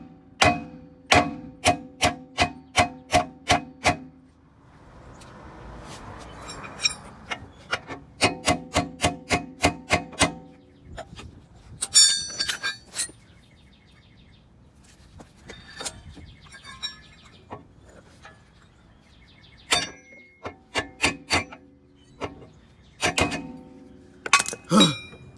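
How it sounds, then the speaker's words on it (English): A hammer strikes a part on a Honda Del Sol in a home garage, with rapid bursts of sharp metallic clinks in quick runs separated by pauses, loud and close with no talking. "I got it at an angle to where I can hit it with just a hammer, I think."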